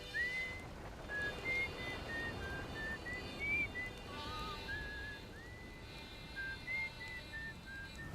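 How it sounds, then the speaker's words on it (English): A character whistles a repeating tune at the Timber Hearth moon station in the video game Outer Wilds, short clear melodic phrases carried over a soft ambient background, faint and continuous with no talking. "the dude whistling, that he's on the Timberhearth moon station"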